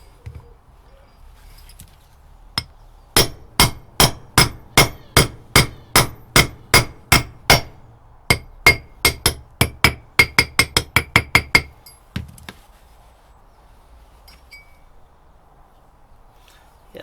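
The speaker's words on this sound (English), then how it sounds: "That sounds like I'm really whacking, as long as you're not angling the mallet." A mallet striking a hub part on a Land Rover 110 during a hub rebuild, about two dozen sharp metallic knocks in a steady rhythm, speeding into a quicker flurry near the end, loud and close.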